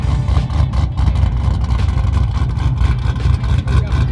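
A nitrous-fed 650 horsepower Chevrolet Trailblazer hot rod engine runs loud and steady, a dense low rumble with slight pulsing throughout, no voices.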